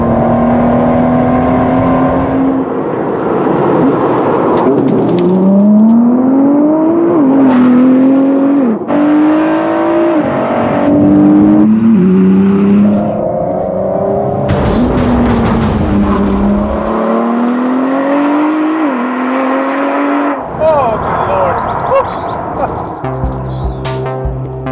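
A 2018 Ford GT accelerates hard through repeated gear changes, its engine note climbing and dropping in rising sweeps, loud and close throughout with no talking.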